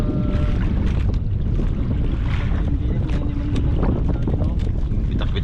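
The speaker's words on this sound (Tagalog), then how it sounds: "Lakas na naman ang hangin oh." Strong wind roars steadily across open sea around a small boat on a fishing outing for tanigue, a dense, continuous low rumble of wind buffeting the microphone with water noise mixed in, loud and unbroken throughout.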